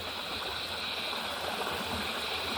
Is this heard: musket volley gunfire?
no